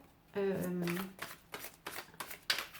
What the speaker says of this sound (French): je vais vous tirer des cartes de cœur